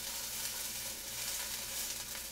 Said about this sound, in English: We're going to heat up a couple of slices of our apple.